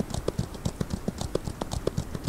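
Several horses clip-clop in the Outlaws of the Old West video game, their hooves striking in a quick, uneven overlapping rhythm of close, crisp knocks with no talk over them.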